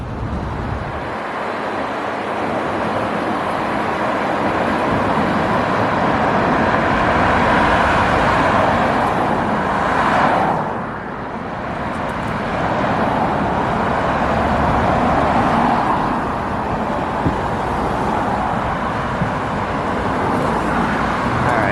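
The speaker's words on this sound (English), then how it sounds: "I'm just gonna wait here for the next bus, see it go through" Emerald Express BRT bus passing through a station, a loud, steady roar of engine and road noise that swells, briefly drops away near the middle, then builds again, with traffic noise around.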